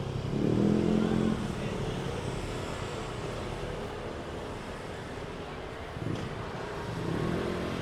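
Vehicles with loud mufflers rumble past on a busy Saturday-night street in Mactan Newtown, a close, throaty engine drone swelling at the start and again near the end over steady traffic noise.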